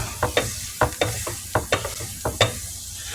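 Butter sizzles in a stainless steel pan on the stove for a sandwich, with a steady crackle under a series of sharp scraping strokes, heard close and without talk.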